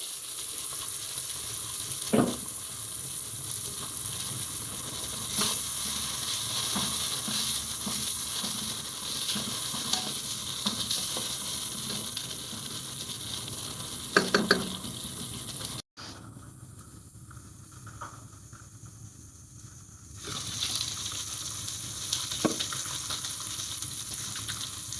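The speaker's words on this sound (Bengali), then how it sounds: "মাংস নেড়ে নেব।" Pigeon meat sizzles steadily as it fries in a pan, with occasional scraping stirs and a brief drop to quieter cooking midway, close and continuous with no talk.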